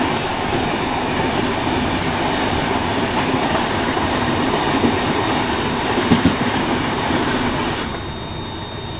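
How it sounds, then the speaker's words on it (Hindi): An express passenger train hauled by twin diesel locomotives rumbles along steadily, with rolling wheel noise, faint clicks and a brief squeal, heard loud and close from on board, easing slightly near the end. "इसमें भी डीजल लोकोमोटिव, ओहो ट्विन डीजल लगा हुआ था इसमें"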